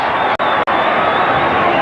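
Dense, steady roar of a big crowd at a 1985 Panasonic Cup rugby league quarter-final between St George and Balmain, loud and continuous with two very brief dropouts, with commentary voices blended into the din.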